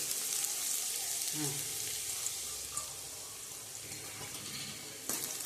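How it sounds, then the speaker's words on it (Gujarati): Green garlic sizzles in hot oil in a pan, a steady broad frying hiss that holds throughout, with a brief louder burst near the end and faint background murmur. "તેલ આવી ગયું છે, હવે લીલું લસણ નાખી દેશું"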